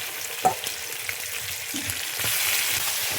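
Meat going into a pan of oil-released, fried spice masala over a wood-fired clay stove, sizzling in a steady broad hiss with a few soft clinks and stirring scrapes, close up and without talk.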